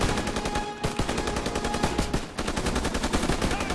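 Rapid gunfire from Call of Duty WW2 during a campaign tank-war mission, loud bursts of automatic shots crackling continuously and close, with dense battle noise throughout.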